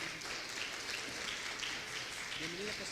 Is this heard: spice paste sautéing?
no